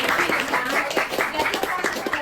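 Students in a physics classroom applaud together, a dense, steady wash of many hands clapping at close range for the full moment, with some voices mixed in.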